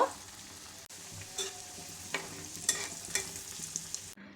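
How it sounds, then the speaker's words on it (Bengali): Chicken leg pieces frying in hot oil in a wok, a steady close sizzle punctuated by repeated sharp spatter pops and stirring clinks, no speech. "কড়াইয়ে পরিমাণ মতন তেল গরম করে আমি চিকেন লেগ পিস"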